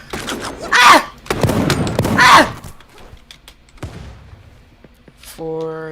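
Shotgun blasts in the cartoon battle game Super Animal Royale: two loud booming bursts close together, followed by quieter thuds and a short tonal game cue, with no talking.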